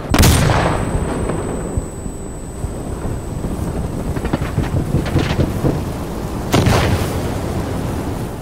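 A flashbang grenade in the video game Insurgency Sandstorm detonates with a loud, close bang, followed by a long, thin, high ringing tone and muffled rumble, then another heavy blast near the end.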